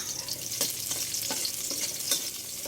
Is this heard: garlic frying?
yes